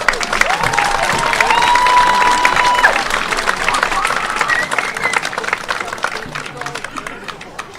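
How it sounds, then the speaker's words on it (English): Crowd in the stands at a high school football game applauding and cheering for seniors being recognized, a loud sustained wave of clapping with scattered shouts that gradually tapers off, with a voice speaking over it. "Give them a big round of applause."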